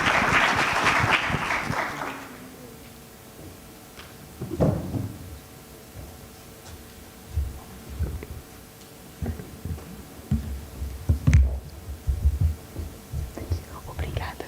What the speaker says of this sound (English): A round of applause for Miguel Azevedo, who you all obviously know very well.